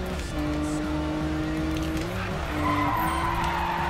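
Car drifting with sustained tire squeal in Need for Speed (2015 reboot) on PS4, a steady screeching tone over a constant engine roar that continues throughout without pause.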